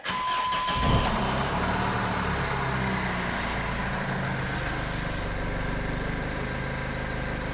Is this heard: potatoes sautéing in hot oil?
no